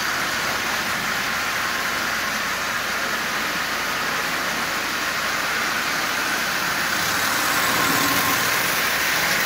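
A 1938 Marx Commodore Vanderbilt toy train's electric motor runs in a steady, close, dense whirring buzz with no breaks, growing slightly louder near the end as it speeds up.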